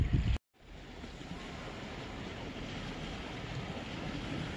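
Small waves lap steadily on the shore of Canyon Lake, Arizona, a continuous soft wash with a breezy, wind-brushed texture after a brief muffled bump at the start.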